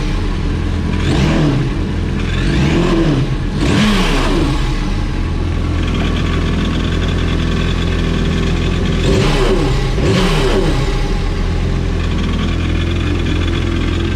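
A Yamaha FX WaveRunner personal watercraft engine, fitted with a WORX intake and hooked up to water, revs up twice over a steady loud idling drone, each rev rising and falling in pitch, rumbling continuously throughout.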